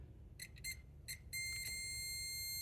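A multimeter's continuity tester beeps as its probes are shorted together, first in three short chirps and then in one steady tone that holds to the end. The beeps are loud and close against a low background hum.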